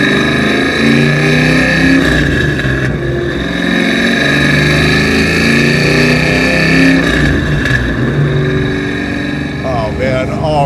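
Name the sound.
Eleanor Mustang 427 engine revving through exhaust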